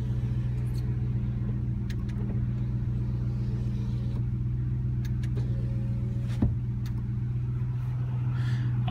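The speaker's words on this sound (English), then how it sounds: "Purrs like a kitten, idling just fine." A 2005 Toyota Tundra pickup with about 195,000 miles sits idling, its engine giving a steady, smooth low rumble up close with a few faint clicks and ticks over the top.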